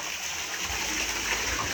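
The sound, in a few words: waterfall by a river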